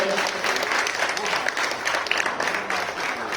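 Applause at a women's gathering ceremony in Uchana, welcoming honorees: steady, dense clapping from an indoor crowd, sustained throughout at moderate volume.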